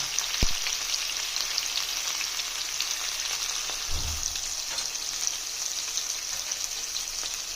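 Masala sautés in a pan for a Kerala-style chicken sausage curry, a steady even sizzle with a constant high frying hiss and a few faint clinks, close and alone.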